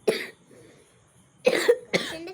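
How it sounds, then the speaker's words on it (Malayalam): Coughing in a few separate bursts: one at the start, then a harsh double cough near the end followed by another, with quiet pauses between, close to the microphone. "ചുമയായോണ്ടാണ്"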